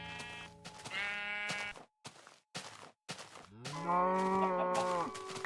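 A video game cow moos several times, loud and close, in drawn-out tonal calls broken by short pauses.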